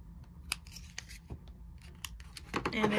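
Scissor-like clippers snip a candle wick, probably a Cocoa Butter Cashmere candle from The Flaming Candle, giving a few sharp close-up cuts and small rubbing clicks, with a denser scraping burst near the end.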